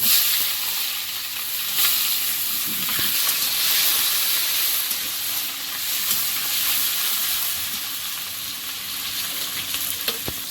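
Onions dropped into hot oil with cumin sizzle and crackle steadily, with stirring noises and a few soft clinks over a continuous frying hiss; no one speaks.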